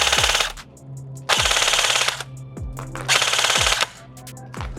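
Retro-style E&C airsoft rifle firing BBs on full auto, with three loud, rapid bursts of sharp shots close by and brief quiet gaps between them.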